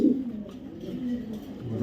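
Large foreign racer pigeons coo softly in low, throaty murmurs, close and continuous for a moment.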